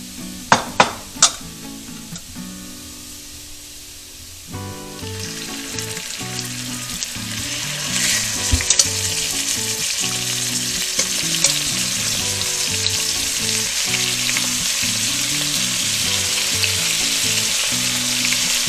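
Pork pieces hit a pan of golden fried garlic for Peruvian adobo: a few knocks and clatters, then a loud, steady sizzle of frying that keeps going, with stirring noises under it.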